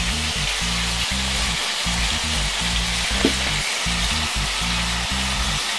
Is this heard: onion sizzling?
yes